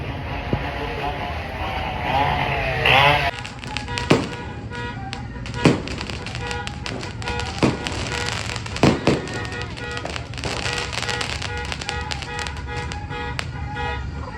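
Repeated sharp New Year's fireworks bangs burst out over a steady crackling, hissing background, with loud pops spaced a second or two apart and voices in the crowd.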